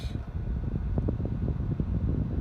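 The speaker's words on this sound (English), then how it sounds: "I think this fan is real garbage." Small brushless 12-volt cooling fan inside a Mountain Dew six-can mini beverage fridge, a weak, low, steady whir with a soft fluttering hum, close and continuous without voices.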